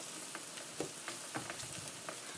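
Garlic frying in oil in a pan as the heat is switched off, a faint, quiet crackle with scattered small pops and light sizzling throughout.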